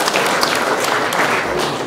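Audience at a Dutch rap battle audition giving a short, loud burst of applause, dense close clapping with some crowd noise mixed in.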